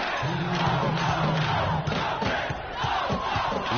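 A virtual crowd in a PS4 college basketball game cheers and roars continuously at moderate volume, a dense wash of crowd noise with no clear speech over it.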